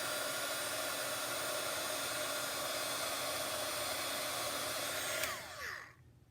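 A heat tool blows a steady, loud airy roar while warming sticky paper for gold leafing, running continuously for over five seconds before winding down and cutting off near the end.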